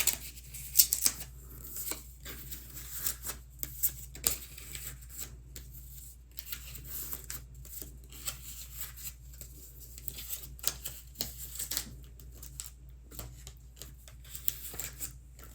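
Pokémon cards are handled and shuffled in a binder, with soft papery slides, flicks and light plastic-sleeve taps coming in irregular close bursts against a quiet background.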